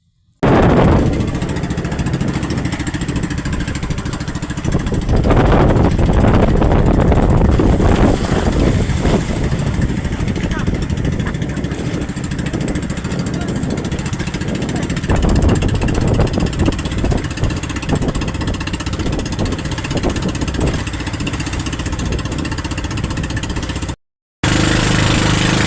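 A large motorboat engine drones loudly and steadily at sea, a continuous low rumble with surging bursts and wind or spray noise, running without a break for nearly the whole stretch.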